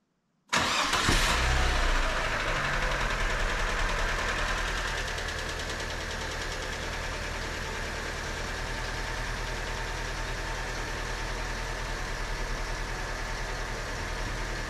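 A Fiat Fire engine fires up loudly and revs hard during coolant replacement and cooling system bleeding, then settles into a steady, strong running drone that continues throughout.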